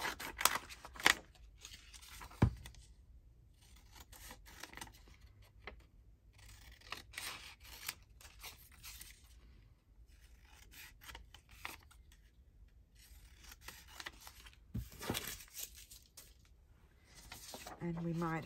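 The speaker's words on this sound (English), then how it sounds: "Cut that one out as well." Paper being cut with scissors for a journal collage, faint snips and rustles scattered through the stretch, with quiet handling noise between cuts.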